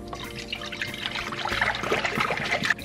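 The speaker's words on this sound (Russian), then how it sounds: "Далее в пустой казан, облитый водой, заливаем молоко." Milk pours into an empty kazan pot that has been rinsed with water, a close, steady liquid trickle and splash running throughout without speech.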